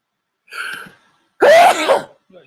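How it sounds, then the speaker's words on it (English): A short breathy intake is followed by one loud, sharp sneeze, close up, then a faint trailing breath. "I'm officially sneezing"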